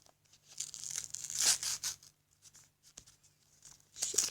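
Packing tape being torn off a taped package, several close ripping and crinkling pulls with short pauses between them, fairly quiet overall.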